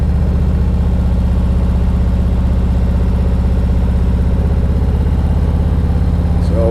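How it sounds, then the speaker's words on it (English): A motorcycle engine with loud exhaust pipes rumbles steadily up close, a heavy, continuous low drone with little change in pitch. "when you give it a little throttle, you'll definitely hear those pipes"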